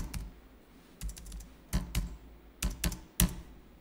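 Computer keyboard typing during accounting software work, with a burst of quick keystrokes and separate key presses including the Tab key, close and fairly quiet with no voices.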